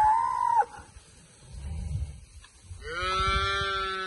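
Cows and calves at a livestock auction: a short calf bawl, then low rumbling and a longer, wavering cow moo, heard close and fairly loud.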